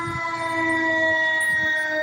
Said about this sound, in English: Damn, they done call the fire truck.